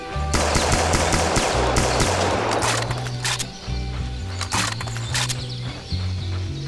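Rapid rifle fire in VietDoom, a Doom mod, rattles out continuously in loud, fast automatic bursts with brief gaps and no talk over it.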